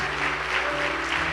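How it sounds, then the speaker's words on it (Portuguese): A church congregation claps steadily in a dense, sustained burst of applause during a Baptist service, with a low musical hum underneath. "Uma salva de palmas para o Senhor."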